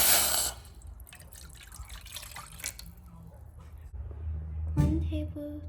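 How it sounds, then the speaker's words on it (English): Tap water running and dripping into a cup measure for homemade churro dough, a splashy burst at the start, then faint trickles and drips, with a louder pour near the end. "We're gonna add in 1 cup of water"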